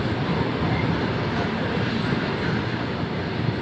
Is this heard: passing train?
yes